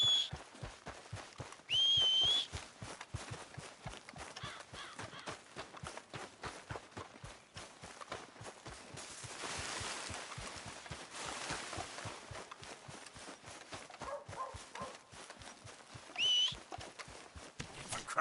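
Horse hooves clip-clop in a quick steady rhythm in Red Dead Redemption 2, continuous throughout, quiet, with a couple of brief whistles over the top.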